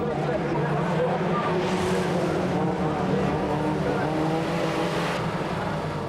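Stock cars race on a shale track at Crewe, a loud, continuous roar of engines that holds steady across the whole stretch with no pause.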